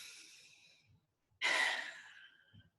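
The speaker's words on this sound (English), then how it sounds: "And then we take a breath." A person breathing during a calming exercise: a soft exhale trails off, then after a short silence comes one deep, close, breathy inhale-sigh, followed by a faint small breath.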